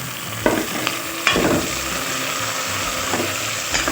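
Washed meat sizzles steadily in a pot while a spoon stirs it, with a few sharp scraping knocks against the metal over a constant frying hiss.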